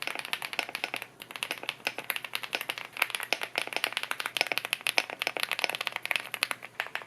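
Rapid keystrokes on an Epomaker Galaxy70 mechanical keyboard, a dense stream of crisp clicks close to the listener with one short pause near the start.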